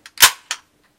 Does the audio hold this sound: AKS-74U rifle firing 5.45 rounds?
yes